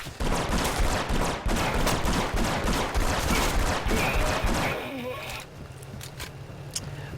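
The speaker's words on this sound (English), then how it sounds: "it's a rapid fire shotgun" A rapid-fire shotgun in Red Faction: Guerrilla fires a fast, heavy run of blasts for about five seconds, then the shooting stops and quieter game noise follows, with someone talking over it.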